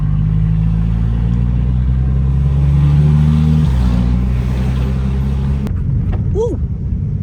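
A car with a cambered stance setup cruises along a flat, straight road, its engine droning steadily with a low, even hum before a brief shift in pitch and a rising rev near the end, with a voice speaking briefly.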